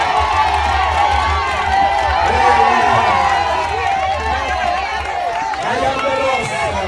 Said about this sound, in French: Allez, on continue à applaudir.